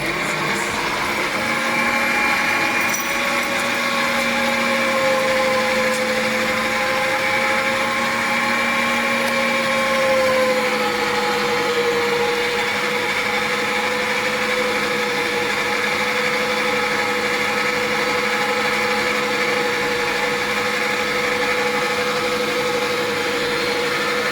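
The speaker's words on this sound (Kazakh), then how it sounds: "блендерден өткізсеңіз де болады" A blender motor whirs steadily and loudly for the whole stretch, its pitch holding almost constant with no break.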